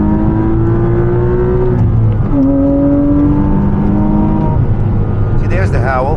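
A 2006 Porsche Cayman S with a six-speed manual howls as it accelerates through canyon roads, engine pitch climbing through the gears with a shift midway, loud and steady under someone talking.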